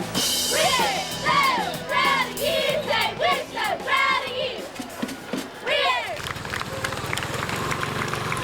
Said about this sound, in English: there's Nashville Christian High School. It's a cheer squad